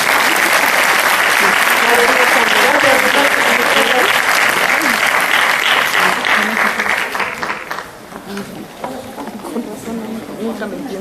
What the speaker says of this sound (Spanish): vamos a darles un aplauso a nuestros hermanos